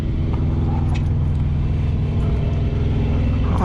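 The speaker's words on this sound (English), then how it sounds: "the APU is running" A 2024 Freightliner truck's auxiliary power unit runs at close range, a constant low mechanical drone with a steady hum and no change in pitch or talk.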